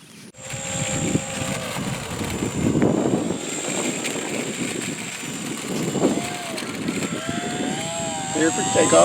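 A Horizon UMX Cessna 182 RC plane's small electric motor and propeller whine steadily at a high pitch, rising and falling as it spools up for takeoff, while people talk nearby.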